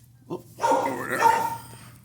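A puppy at an animal shelter lets out a short yip followed by a longer, whining bark that rises and falls, fairly close.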